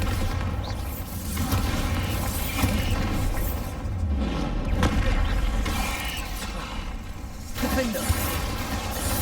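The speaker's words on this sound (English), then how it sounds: "Bombarda!" Bombarda spell explosions in the video game Hogwarts Legacy, a series of booming blasts and crunching impacts amid continuous combat noise, with a voice calling out spell names.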